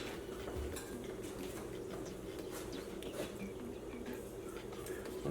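Small metal measuring spoons clink and rattle softly in a home kitchen while a cook measures lemon juice for chicken piccata sauce, light scattered taps over a steady background hum.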